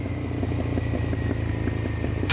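A motorcycle with freshly tuned carburettors idles nearby with a steady, rhythmic low throb, and a sharper burst comes from the exhaust at the very end.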